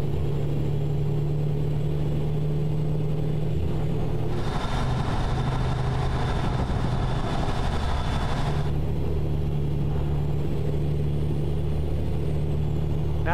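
A deep, steady engine rumble from a Mayflower Moving Kenworth K100E truck in American Truck Simulator drones throughout, with a brighter mechanical roar swelling for a few seconds in the middle before settling back.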